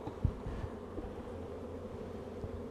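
Honey bees buzz at an open hive during a varroa mite inspection, a steady low drone close by with a few brief louder passes as individual bees fly near.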